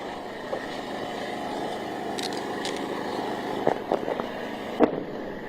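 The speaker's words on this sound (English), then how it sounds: "There are going to be some loud explosions. Don't be alarmed. Those are interceptions." Several distant booming missile interception explosions, sharp and muffled, go off irregularly over a constant low rumble of outdoor background noise in Gaza.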